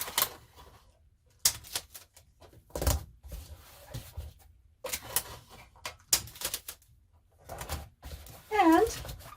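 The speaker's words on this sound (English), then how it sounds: "close that down, and tape it up" Packing tape is pulled and pressed onto a shipping box in several sharp ripping bursts separated by quiet pauses, with a brief voice near the end.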